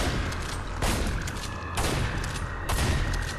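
Repeated shotgun blasts in the video game Red Faction: Armageddon, three loud booming shots spaced about a second apart over dense, continuous game noise.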